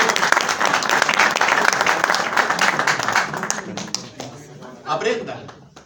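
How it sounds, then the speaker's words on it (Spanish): Clapping from an audience at the Chilean DX radio congress, a dense round of applause that fades out gradually, with a voice speaking near the end as the clapping dies away. "por favor, un aplauso"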